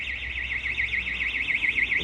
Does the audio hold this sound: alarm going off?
yes